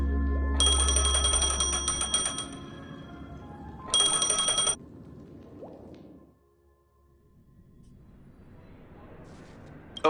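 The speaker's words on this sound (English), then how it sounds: "A phone." Phone in the video game Honkai Star Rail ringing with bright electronic trills, one long burst and then a shorter second one, followed by soft game ambience and faint rustling.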